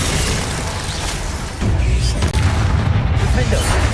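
A Bombarda explosion spell in a Harry Potter video game bursts with a heavy, booming blast that swells midway and rumbles on loudly, mixed with other game noise.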